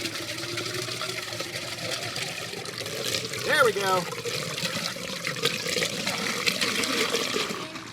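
Water gushes from an RV gray tank drain pipe, a steady rushing, splashing flow with a brief surge partway through, while several people talk over it nearby.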